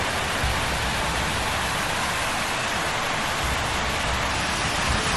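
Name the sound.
heavy rain while descending Ben Nevis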